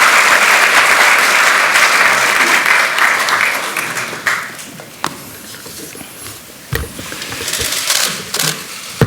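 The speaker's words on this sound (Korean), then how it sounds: "뜨거운 박수 부탁드리겠습니다." Warm, dense applause fills a National Assembly chamber for the newly nominated Speaker, loud and sustained for about four seconds before tapering into scattered claps and room noise.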